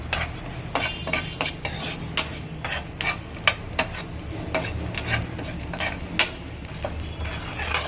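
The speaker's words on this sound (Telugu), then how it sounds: "కొంచెం ధనియాలు వేసుకుందాము తర్వాత కొంచెం జీలకర్ర ఇది కూడా బాగా వేయించుకున్నాము" Coriander and cumin seeds rattle and scrape against a dry pan as they are stirred while dry roasting, with irregular clicks and a soft, steady crackle close by.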